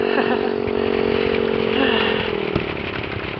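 A motorcycle engine drones steadily at close range as it is ridden, holding a constant buzzing pitch that dips slightly near the end, with no talk over it.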